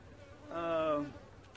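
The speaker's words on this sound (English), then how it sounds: "See right there, some bees on that frame right there." A single honeybee near a beehive frame buzzes past close by, a brief harmonic drone lasting about half a second over faint background.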